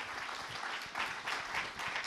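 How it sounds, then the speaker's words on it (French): Audience applause at a conference, a soft even wash of clapping from a distant crowd, faint and steady with gentle swells, no voices on top. "Je vous demande d'applaudir M. Jérôme Rive, directeur de l'IAE."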